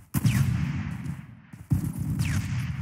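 Gunfire in the Roblox shooter Phantom Forces, a dense burst of shots from about 0.15 s that keeps going, fades slightly, then a second loud burst near the 1.7 s mark carries on to the end with no voices.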